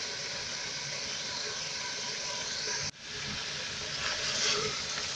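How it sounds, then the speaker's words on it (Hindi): Beef browning with salt and spices in a pot gives a steady broadband sizzle and hiss from start to finish, with a brief dip near the middle, followed by louder crackling. "गोश्त को हम अच्छी तरीके से मसाले के साथ भूनना है।"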